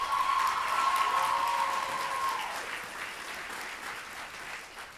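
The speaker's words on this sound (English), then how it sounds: "Let's give these young ladies another round of applause" Audience applause for young pageant contestants at a high school pageant, a full round of clapping that starts strong with a sustained tone over it, then gradually thins and fades.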